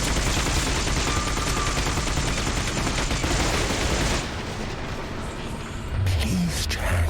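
Sustained turret gunfire in the video game The Darkness roars as a dense, loud, continuous stream of shots for several seconds, then cuts out, leaving quieter game sounds and a few low thuds.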